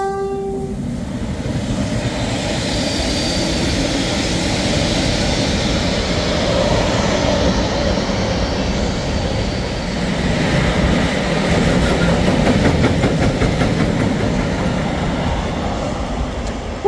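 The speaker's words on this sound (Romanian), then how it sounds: "Ce fain e să prind așa trenuri." Trains pass through the Prahova Valley near Sinaia with a loud, continuous rumble of wheels and rolling stock for about seventeen seconds, a brief horn sounding early on.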